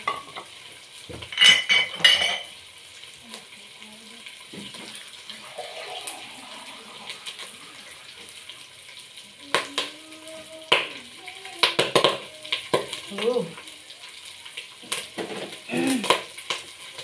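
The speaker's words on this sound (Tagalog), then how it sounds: "Ngayon po ay ating lagyan ng sabaw." Broth is poured into a cooking pan over sautéed garlic and onion, bringing a sizzle with liquid splashing and repeated metal spoon scrapes and clinks as it is stirred, close by.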